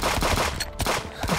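Rapid bursts of video game gunfire, loud and close, with several sharp shots in quick succession and a brief gap midway.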